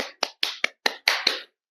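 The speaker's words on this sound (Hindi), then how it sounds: "ताली।" Seven sharp hand claps ring out close and dry, evenly spaced in a quick steady rhythm before stopping.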